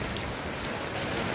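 Heavy, unbroken rain pours down during rough weather from a low-pressure system at sea, a dense, steady roar without any voices.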